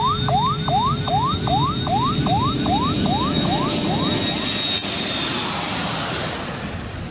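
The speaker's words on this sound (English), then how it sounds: "Planes are landing and taking off left and right" Jet aircraft roar steadily at a busy airport runway where planes land and take off, a loud, broad engine rumble and whine that swells and then eases, accompanied by a repeating electronic chirping tone in the first half.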